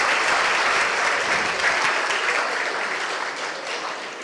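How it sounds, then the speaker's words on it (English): A crowd at a live hackathon event in Vizag gives a dense, sustained round of applause that stays loud and even before it tapers slightly at the end. "a huge round of applause to Mr. Varun Gyanchantani."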